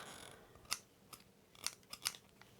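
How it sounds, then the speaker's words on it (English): Ordinary non-sewing scissors snip through card and fabric for a vintage button storage craft, several sharp close crisp cuts in an uneven rhythm over quiet room tone. "these scissors aren't very good."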